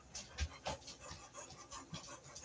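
A happy Rottweiler-like dog pants close up in quick, rhythmic, breathy bursts with a few louder huffs, with no talking.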